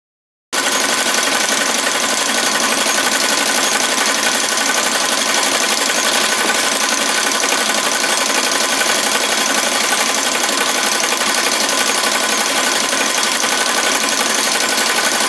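An embroidery machine stitches a frog plushie dog toy in the hoop, a steady, loud mechanical whir and rapid needle rhythm running continuously after a brief silent start, with no voices.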